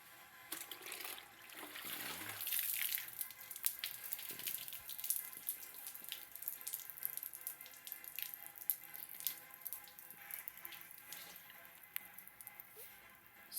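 Water is poured and splashed over a wet-sanded car base coat, trickling and dripping quietly with a brief gush near the start, then soft continuous running and splatters.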